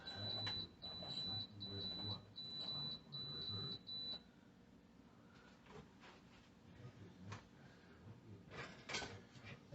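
An Instant Pot pressure cooker gives a series of short, clear electronic beeps in an even rhythm as its buttons are pressed, followed by quieter kitchen handling noises.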